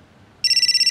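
A mobile phone ringtone for an incoming call breaks in suddenly after near silence, a loud, close, rapidly pulsing electronic trill.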